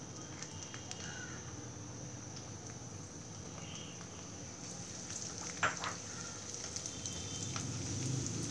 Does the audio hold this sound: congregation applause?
no